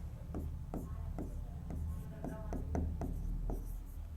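Pen or marker writing out a class 10 heat numerical, with repeated scratchy strokes in an even rhythm, close and moderately loud over faint room noise, and no talking.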